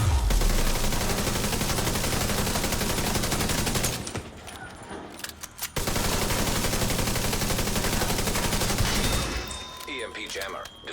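Enemy gunfire in The Division 2: sustained loud bursts of automatic fire that break off for a couple of seconds and then resume, fading near the end.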